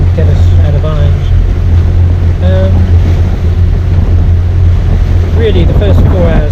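A sailing boat's engine hums low and steady in strong wind, with wind buffeting the microphone and waves washing around the hull. Faint voices come through now and then.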